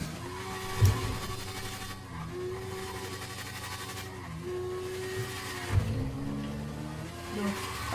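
A car speeds along in GTA 5, a steady engine drone with rising and falling harmonics, two short louder bumps and shifts in pitch as it races, heard continuously with no talk.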